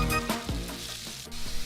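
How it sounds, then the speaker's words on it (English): Pork browns with garlic in a hot pan, crackling and sizzling up close, with a couple of clattering utensil knocks and scrapes over a continuous hiss. "So right now we're just browning our meat."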